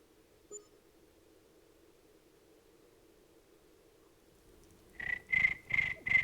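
A voice mimics a cricket chirping with four evenly spaced, shrill pulses near the end, following a steady low hum.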